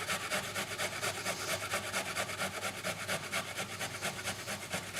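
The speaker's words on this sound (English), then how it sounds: "We're just going to grate that as well." Raw beetroot is rubbed against a grater in quick, even strokes, making a steady rasping scrape that carries on without a break for the whole stretch, close up and with no talking.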